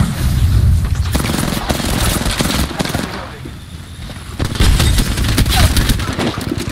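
Rifle gunfire in a shooting video game, heard as loud, dense rapid bursts and booming shots that pause briefly midway and then resume.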